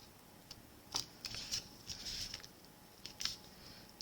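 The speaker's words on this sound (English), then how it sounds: "the first step is to go ahead and fold all of this on the" Thick vellum paper is folded along its creases in short, crisp crinkling and rustling bursts, close and fairly quiet, with brief pauses between the folds.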